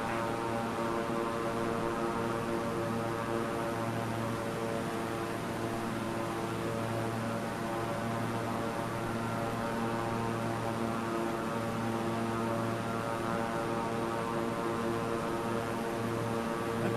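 A Beechcraft propeller engine in a flight simulator game, a steady unbroken drone with dense tonal harmonics, constant and fairly loud for the whole stretch with no voices.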